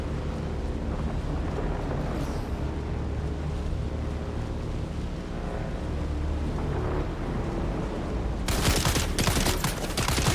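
Rapid gunfire directed at the player in the Dune: Awakening video game crackles continuously over a dense, roaring background wash, growing sharper and louder with bright bursts near the end.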